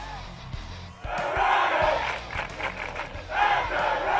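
A football crowd roars steadily through the whole stretch, loud and sustained, swelling twice over the field noise with no talk on top.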